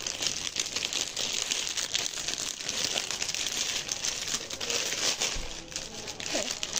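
Package being unwrapped and torn open by hand, with steady, close, loud crinkling and rustling of plastic wrapping throughout.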